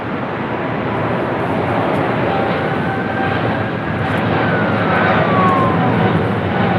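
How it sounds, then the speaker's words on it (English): Turkish Airlines Boeing 777-300ER jet rolling along a runway at LAX, a steady broad engine roar that holds at an even, fairly loud level throughout, with a faint rising whine over it. "we do have the Turkish Airlines 777-300ER rolling down to 5 right there on the south side"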